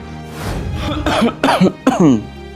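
A man coughs several times in quick, harsh bursts, with a throat-clearing rasp, close and loud.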